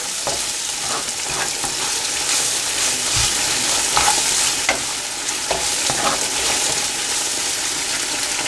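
Ground cumin, chili and coriander powder sizzle in hot oil in a pan for mutton biryani, a steady close frying hiss with occasional stirring scrapes throughout.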